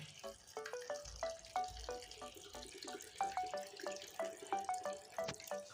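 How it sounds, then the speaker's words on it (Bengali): Water being poured into a pan of cooking mixed vegetables with potatoes, producing rapid bubbling, plinking drips with rising tones and a faint sizzle, fairly quiet and close. "এখন আমি জল দিয়ে দিচ্ছি"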